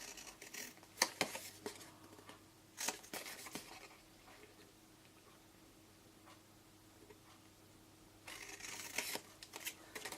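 Scissors snip through paper pieces for a wedding favour box, faint clusters of quick cuts coming near the start and again near the end, with near silence in between.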